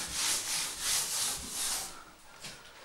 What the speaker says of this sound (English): Just rub it nicely in.